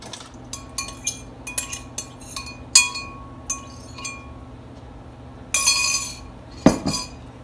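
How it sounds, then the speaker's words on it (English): Rehydrated beets dumped into a glass casserole dish in a home kitchen, giving a scatter of sharp clinks and taps that end in a louder clatter and a thump, with a low steady hum underneath. "So I'm just going to dump them into a casserole."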